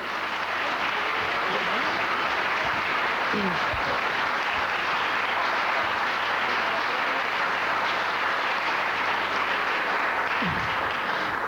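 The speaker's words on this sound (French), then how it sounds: "Je vous demanderai de les applaudir très fort." Sustained crowd applause for children after an Easter celebration show, a dense, even wash of clapping that holds steady throughout, with faint voices briefly surfacing underneath.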